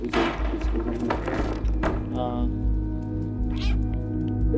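A cat meows several times in the video game Stray, clear and close, with short thumps and taps between the calls and a person talking throughout.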